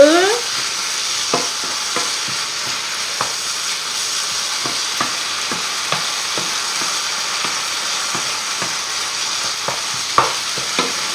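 Eggplant sautés in a pan with a steady, moderately loud hiss of frying, punctuated by regular light clicks and scrapes of a utensil stirring throughout, without speech.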